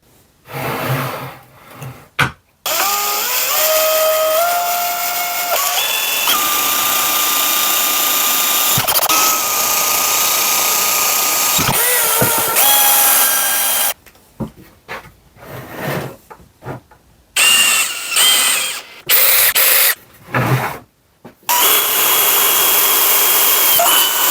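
A power drill drives screws through plywood pieces of a knock-down surface-planing table, in repeated bursts of whining motor noise with pitch changes and short pauses between runs, loud and close with no talking.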